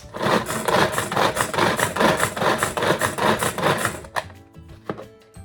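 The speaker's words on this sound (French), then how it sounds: "Je peux couper un petit peu plus fin même." Kitchen knife finely slicing vegetables on a cutting board while cooking, a steady run of rapid close chops for about four seconds, then a few slower isolated cuts.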